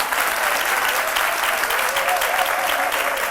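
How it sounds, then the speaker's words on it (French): Studio audience applause for the Foursquare women's movement of Beaunois on a midday television show: loud, dense, continuous clapping from a large crowd, sustained and even throughout. "que je vous demande d'applaudir"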